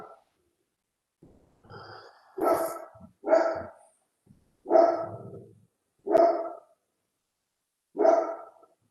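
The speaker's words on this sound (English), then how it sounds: "That wasn't me barking, that was my dogs." Household dogs bark during a civic planning call: five or six separate woofs, spaced irregularly a second or so apart, moderately quiet and slightly distant, with no talking.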